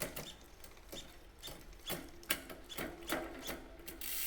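Electronic SRAM GX Eagle AXS rear derailleur on a Trek Rail e-bike stepping through gears, a series of about nine sharp mechanical clicks and ratcheting ticks at roughly half-second intervals, close and fairly quiet, with no talking.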